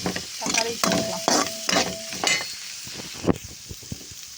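Onion with ginger-garlic paste sizzles in a hot pan as a spatula stirs it in a few scraping strokes, followed by quieter, intermittent sizzling and light clinks.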